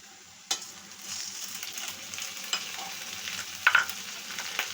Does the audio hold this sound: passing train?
no